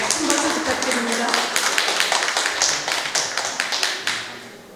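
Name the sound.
audience applause for Professor Jang Ki-deok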